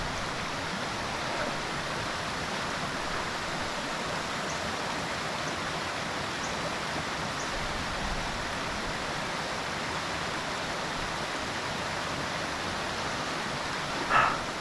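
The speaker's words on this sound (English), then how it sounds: "Pause in the sun, enjoy the creek." A mountain creek runs beside a hiking trail in the sun, a steady broadband rush of flowing water that stays even and close throughout, with no voices.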